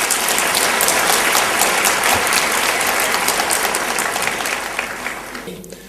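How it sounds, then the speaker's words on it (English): A lecture audience breaks into sustained applause to welcome a speaker to the stage, a dense, steady wash of clapping that holds loud and fades slightly toward the end. "let's give a warm round of applause to Yusuf Ismail."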